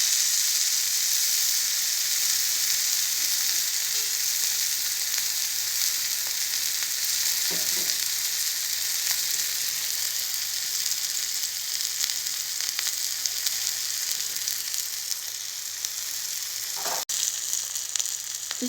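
Vanjaram (seer fish) frying in oil in a pan makes a constant close crackling sizzle for the whole stretch, with a few brief knocks and clatters of utensils and no talking.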